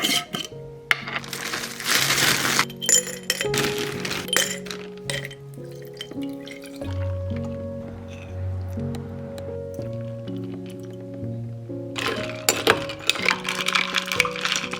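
Ice cubes from a bag clink and tumble into a glass of iced matcha with oat milk, giving bright glassy knocks and rattles up close. Several clusters of clinks and resonant rings follow, with pauses between them.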